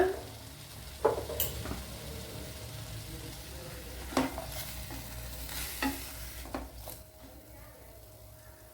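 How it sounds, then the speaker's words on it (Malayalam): Snake gourd theeyal sizzles in a pan as a spoon stirs it, giving a few scattered scrapes and clacks over a soft steady frying hiss, close by and fairly quiet. "നല്ലപോലെ ഒന്ന് ഇളക്കി കൊടുക്കണം"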